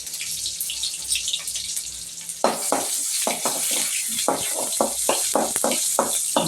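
Whole and crushed garlic with green chillies frying in hot oil, a steady bright sizzle that surges louder partway through, with bursts of spattering crackle and stirring scrapes.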